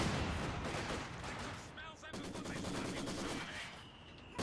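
Mortar blasts and gunfire from the video game Company of Heroes 2 form a dense, continuous battle din, with rapid bursts of shots and heavy booms layered under a commentator's voice.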